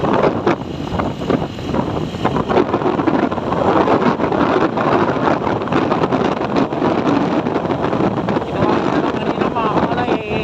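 Strong wind roars and buffets the microphone continuously, a loud steady rush with gusty texture throughout.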